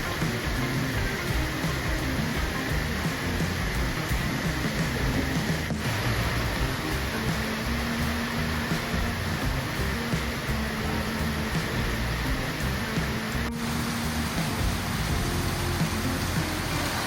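Steady heavy rain at a bus terminal with no canopy hisses continuously, a dense even wash of noise with no talking and no break.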